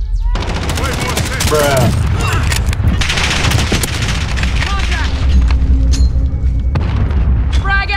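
Heavy gunfire in a Call of Duty Modern Warfare match, with rapid automatic bursts and booming shots filling the whole stretch under shouted players' voices.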